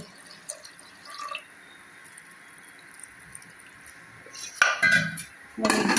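Water poured into a cooking pot holding carrots and cabbage comes in two short, splashy bursts near the end, after a quiet stretch with faint clinks.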